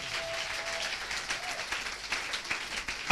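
A church congregation claps and applauds in a steady, dense patter of many hands, filling the room evenly throughout and swelling slightly at the very end.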